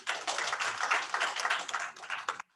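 Audience applause at an investiture ceremony for a district chairman, steady dense clapping filling the room for over two seconds before stopping abruptly.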